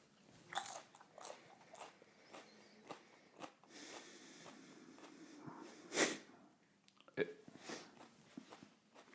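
Someone bites into a Scotch Brain chili pepper and chews it, giving several quiet, close crunches and wet chewing sounds with small breathy snorts and sniffs between them in a hushed setting.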